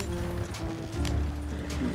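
Horse hooves clip-clop in a video game, a quick uneven run of soft thuds under a steady low hum and background game sounds.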